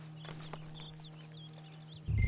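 Horse hooves in Red Dead Redemption 2 clip-clopping softly under outdoor ambience with birdsong, ending in a louder thud of movement.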